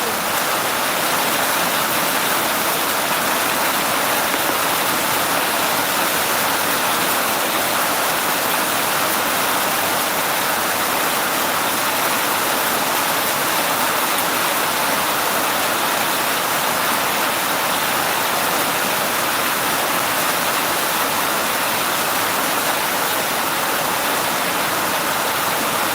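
Heavy rain pours down in a dense, unbroken hiss that stays loud and even throughout, with no clear voices over it.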